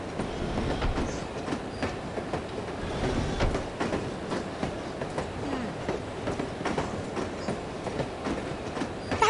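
Train riding along the tracks in the video game No One Lives Forever, a steady rolling rumble with rhythmic clickety-clack wheel beats throughout, fairly close and continuous, without talk.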